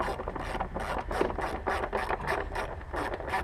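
A hand ratchet tightens the bolts on the coolant tank of a 1996 6.5 diesel, giving a close, rhythmic series of quick clicking strokes with no other sound.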